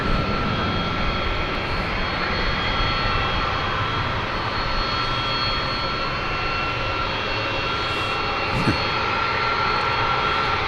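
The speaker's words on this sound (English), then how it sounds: "Next to arrive, we will have for you American Flight 1018 from Phoenix, an Airbus A321." Airbus A321 jet arriving at DFW airport: a steady, loud broadband engine roar with a constant whine holding evenly throughout, no talk.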